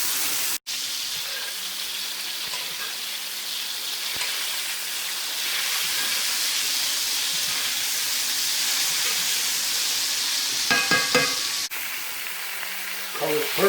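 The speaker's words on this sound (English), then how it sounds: "and then I'll butter bake the steak with a spoon" A steak basted with butter, thyme and rosemary sizzles steadily in a hot pan, a constant close frying hiss with brief clinks and scrapes of a spoon near the end.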